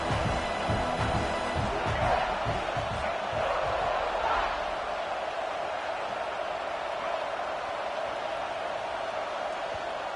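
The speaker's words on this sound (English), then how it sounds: "the crowd coming to life here, trying to help this defense down in the red zone" Stadium crowd noise in a college football video game, a broad steady roar of fans building in the red zone, continuous and moderately loud, with no clear individual voices.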